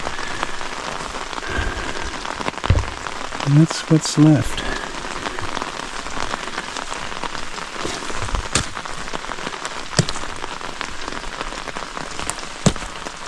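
Steady rain falls outdoors on a property, a constant close hiss of drops hitting surfaces, with a short burst of speech partway through and a few louder patters.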